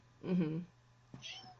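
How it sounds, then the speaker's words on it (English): A large fluffy Maine Coon ragdoll cat gives one short, soft meow close by in a quiet room, followed by a faint brief sound. "That was a cat."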